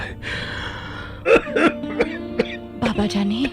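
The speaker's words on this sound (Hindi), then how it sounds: "खांसी एक लम्हे के लिए नहीं रुकती।" Several harsh coughs come in quick bursts, close and loud, with someone speaking briefly between them.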